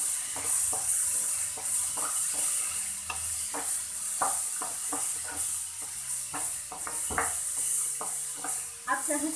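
Onions and tomatoes for masala oats fry in a pan, with a steady sizzle under repeated spatula scrapes and knocks at an irregular rhythm, recorded close.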